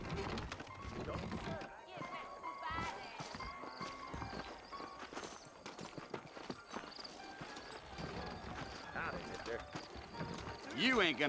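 Saddled horses in the Red Dead Redemption game in New Orleans trotting with steady clip-clop hoofbeats, mixed with game sounds and speech, a whinny near the end.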